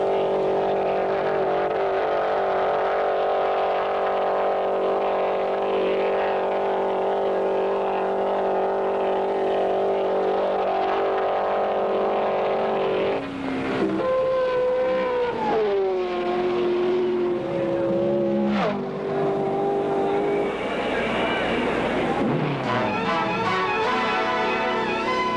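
Rear-engine race car lapping during qualifying at the 1964 Indianapolis 500, a steady loud engine drone sustained for most of the stretch, then shifting pitch and sweeping as the car passes, with crowd and track noise around it.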